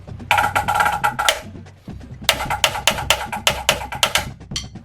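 A snare drum plays two book report rudiments in quick bursts of rapid, crisp strokes, with a short pause between them, loud and close.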